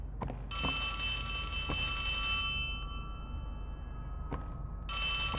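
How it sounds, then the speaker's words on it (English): An in-game telephone in Poppy Playtime Chapter 3 rings loudly in long electronic bursts, stopping and starting again, with faint footsteps and knocks in a quiet room. "I hear a phone."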